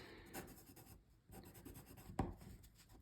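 Luminance colored pencil strokes on dark paper, heard as soft, close scratchy scribbling in short bursts with brief pauses.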